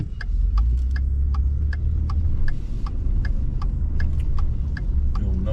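A car pulling up to a small hometown post office: a close, low engine rumble with a steady, regular ticking over it, like a turn signal, and no talking.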